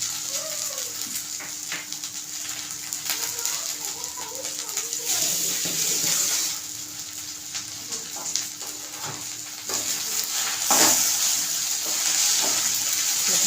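Cooked drumstick leaf vegetable is stirred in a pan with oil, with a continuous sizzle and scattered scraping clicks while someone talks in the background.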